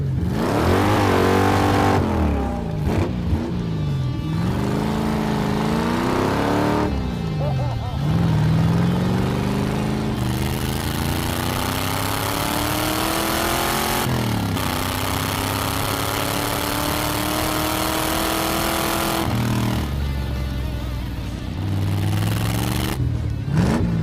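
A small buzzy kart engine revs up and down repeatedly, pitch rising on each acceleration and dipping between, fairly close with some wind noise.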